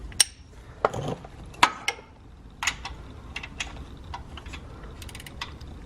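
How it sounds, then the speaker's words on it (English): Sparse, irregular metallic clicks and ticks from a socket wrench ratcheting on a tensioner pulley bolt of a Hyundai Sonata Hybrid engine, heard close up in short bursts with quiet gaps and no talking. "we should have enough space to get a socket on here and to be able to undo this bolt"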